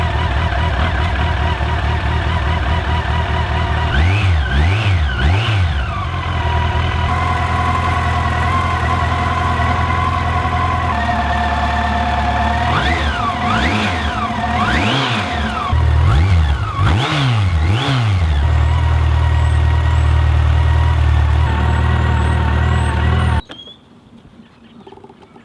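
A 2005 Yamaha FJR1300 motorcycle engine idles while warming up after sitting unused, then repeatedly revs up and drops back in sharp swells, loud and close, before cutting off near the end.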